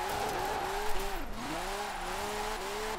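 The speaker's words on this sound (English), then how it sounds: "And I can still drift in Forza" Nissan 370Z drifting in Forza Horizon 4, its tires squealing in a steady, wavering high whine over a constant engine drone, close and loud without a break.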